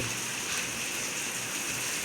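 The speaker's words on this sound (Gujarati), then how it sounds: "કેવો વરસાદ આવે છે" Steady, even rain falls outdoors over a vegetable garden with brinjal plants, a soft continuous hiss with no talking.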